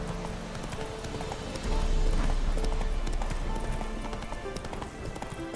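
Roach the horse in The Witcher 3 game clops along with a rapid, steady patter of hooves that grows louder midway, with faint voices in the background.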